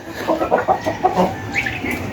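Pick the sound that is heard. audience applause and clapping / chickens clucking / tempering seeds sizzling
chickens clucking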